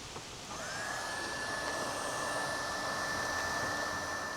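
Heat gun blowing steadily during a 2025 Toyota RAV4 XLE hybrid headlight install, a constant close airy whoosh with a thin whine, alone and unbroken.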